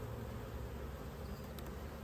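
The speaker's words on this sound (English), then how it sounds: "we're going to shake a bunch of bees down into this" Dense, steady droning of many honey bees inside a hive during brood inspection, a continuous close buzz filling the clip with no voices.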